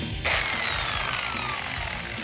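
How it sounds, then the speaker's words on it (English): A power drill fitted with a Forstner bit bores into wood, starting abruptly and holding a loud, steady whine that slowly drops in pitch as the bit cuts, heard alone and close. "We're using a different kind of drill bit called a Forster bit."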